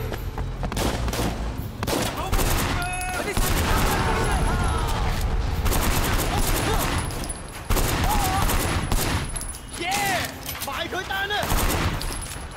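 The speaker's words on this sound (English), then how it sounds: "Wait, who's shooting me?" Rapid bursts of gunfire and automatic fire crackle through a shootout in the video game Sleeping Dogs, loud and dense for most of the stretch, with someone talking over the shooting.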